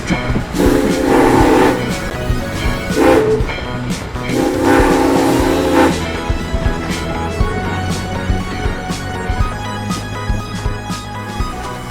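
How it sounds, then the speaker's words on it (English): A steam train at Chehalis, Washington, sounds loud and close, with a rumbling, clanking rail roar under bursts of whistle-like tones early on. "This is a steam train"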